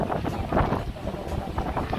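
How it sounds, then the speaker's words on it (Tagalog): Strong wind buffets the microphone on the Sampaloc Lake boardwalk in San Pablo, Laguna, a steady low rumbling roar with gusty swells throughout, mixed with faint voices in the background. "Malakas talaga yung hangin dito, no?"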